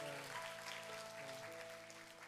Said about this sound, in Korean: 수고의 박수